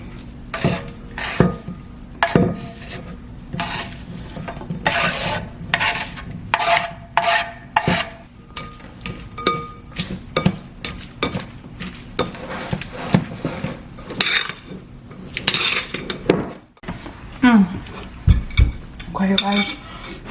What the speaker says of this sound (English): And then we're gonna add the salad right into the dressing.